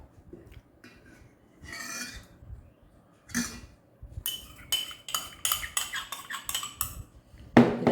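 A spoon mixing grated coconut and other ingredients in a bowl, with irregular scraping and clinking strokes that grow busier and louder toward the end, close up, with a brief throat-clear-like sound early on.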